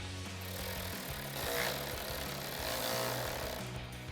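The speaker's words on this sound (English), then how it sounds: "take your 7mm socket to run in your self-tapping screws" A power tool with a 7mm socket drives self-tapping screws while an upper grille is fitted to a 2024 Mustang GT, a close buzzing, rattling whir that pulses a few times over about four seconds.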